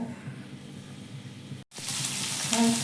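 Masala frying in a pan for a country chicken sambar, a soft sizzle that suddenly swells into a loud, bright crackling hiss after a brief gap, close and without speech.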